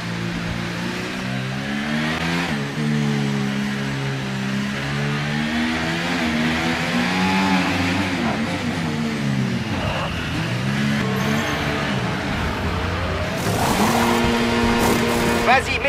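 A Formula-style race car in a motorsport sim on the Australian Grand Prix circuit, its engine note rising and falling through repeated up-and-down revs and gear changes, loud and steady under a speaking voice.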